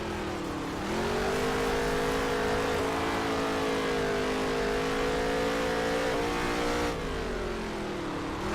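A race car in NASCAR Heat 3 roaring around the Las Vegas dirt track, its engine a loud sustained drone that dips briefly, then climbs and holds, with pitch shifts as it works through the corners. No voices are heard.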